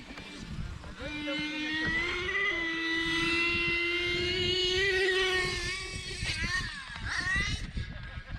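A small electric motor whines at a high pitch, revving and drifting in tone for several seconds, close and fairly loud over a rough rumble.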